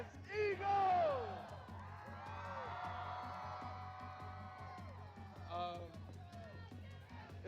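Eagles fans at a celebration crowd, a large mass of voices yelling, whooping and cheering with rising shouts near the start and again near the end, steady low hum underneath.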